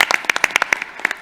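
A handful of sparse, separate hand claps at an evening session, quick and uneven, close and fairly loud, fading after about a second.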